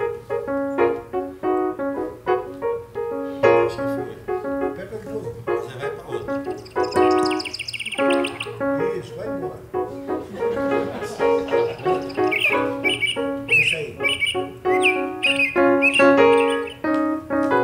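A small bird chirps in high, bright bursts while a musician plays a busy melodic line alongside it. The instrument dominates and the bird calls rise over it in the later part.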